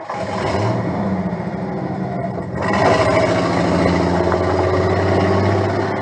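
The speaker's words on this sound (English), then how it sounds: "just turn on the engine and off you go." A car engine revs up and pulls away, a steady mid-pitched motor that grows louder about halfway through as it accelerates, with no talking.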